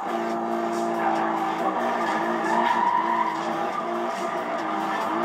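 A BMW M3 GTS race car in the Need for Speed Rivals video game, its engine droning at a steady pitch with tire skidding and squealing layered on top, loud and continuous with no voices.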